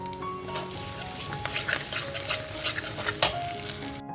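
Whole spices and ground spices such as coriander powder and turmeric sizzle and fry in hot oil while a utensil stirs and scrapes the pan, steady and close, for a vegetarian chayote squash curry, with no voices.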